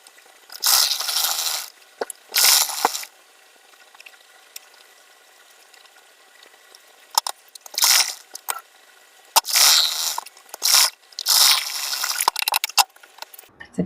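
A sewing machine runs stitches along the lining of a princess-cut blouse near the back neck, in several separate bursts of a few seconds each with quiet pauses between, close and fairly loud.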